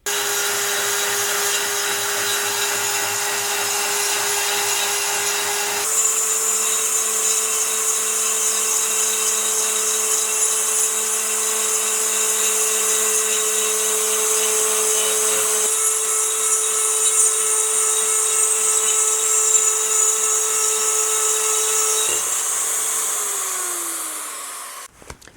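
A RotoZip rotary cutting tool whines at a high, steady pitch, grinding continuously through material with slight shifts in tone, then winding down at the end.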